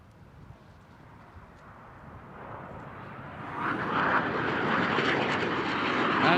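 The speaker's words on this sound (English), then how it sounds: "Boom Supersonic's XB-1 passenger jet achieved a successful test flight" Boom Supersonic XB-1 supersonic civilian test jet taking off, a jet engine roar building steadily from a low rumble to a loud, broad sustained blast, with no voices.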